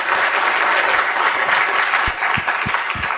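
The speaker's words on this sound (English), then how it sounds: "Give him one big round of applause to finish." Loud, dense audience applause at the close of a talk on artificial intelligence and jobs, many hands clapping continuously for about three seconds, with a few sharp low thumps near the end.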